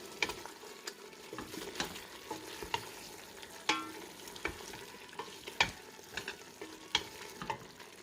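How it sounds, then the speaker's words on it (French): Onion sautés in a pan for a tagine and is stirred, with a steady low sizzle broken by frequent close scrapes and clacks of the spoon in an irregular rhythm. "on fait bien revenir jusqu'à ce que l'oignon fonde"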